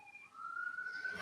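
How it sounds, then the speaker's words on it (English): A brief, faint police siren wails upward in a single rising tone and fades in alone, with no voices over it. "Sirens blaring."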